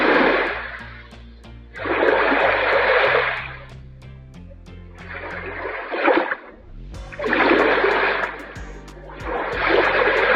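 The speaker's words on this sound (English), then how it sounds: "followed by the sound of water" Water flows and splashes in surging waves, rising and falling every couple of seconds over a low rumbling hum.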